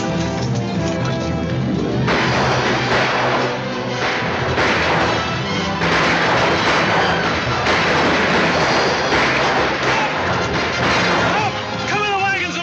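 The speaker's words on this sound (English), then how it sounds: "Everybody, take cover and open fire." Dense rifle gunfire and battle noise from a 1940 western film fight, with repeated sharp shots over rumbling commotion and shouting voices, loud and continuous throughout.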